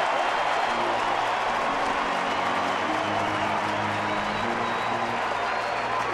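A baseball stadium crowd at a Royals–Twins game applauds and cheers a diving catch, a dense, steady roar of clapping and voices filling the space at loud, even level throughout.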